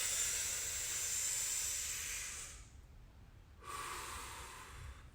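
Deep breaths are drawn and released during a rolling class, first a long airy inhale, then a brief pause and another breathy exhale, soft and close with no talking.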